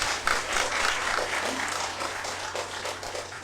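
Clapping from the audience at an Indian language council award ceremony, a dense continuous patter of many hands held at an even level throughout, with a low steady hum underneath.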